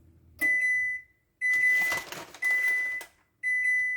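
Oven timer beeping to signal it has finished preheating for a homemade veggie pizza: four clear, loud, evenly spaced beeps, each about half a second long, with quiet gaps between them.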